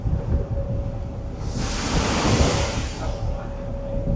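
Big waves crash at the Sydney Harbour entrance near the headlands, a loud surging wash of surf swelling in the middle beneath steady wind buffeting the microphone and a low engine hum.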